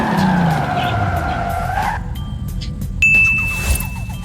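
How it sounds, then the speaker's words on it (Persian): A BMW M3 GTR brakes hard from 200 km/h: the loud engine note winds down over about two seconds, then a thin, high tire squeal cuts in near the end amid rough road and wind noise. "میریم واسه تست ترمز."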